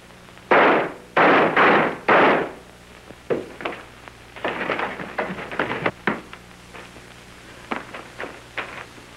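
Gunshots are heard in a 1930 film, starting with three loud, sharp reports in quick succession, followed by a scatter of smaller cracks and bursts of varying loudness with an old, noisy soundtrack.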